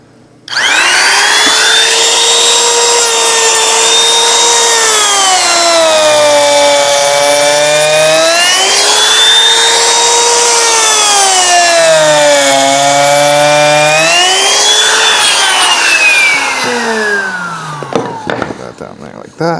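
A power tool cuts a sample piece of plywood while rabbeting drawer boxes, a loud continuous whine that rises and falls in pitch over about 17 seconds, then winds down at the end, with no talk over it.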